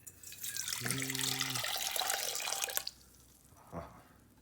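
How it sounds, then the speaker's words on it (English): Warm water pours from a microwaved cup into a bowl for proofing yeast, a close, steady splashing stream lasting a couple of seconds before it stops, followed by a small trailing splash. "It says I have to add 1 cup of warm water."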